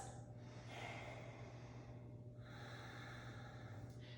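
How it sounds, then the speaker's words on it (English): Slow, deep breaths taken during a gentle yoga flow, soft airy inhales and exhales in two long waves over a low steady background hum. "Take some deep breaths."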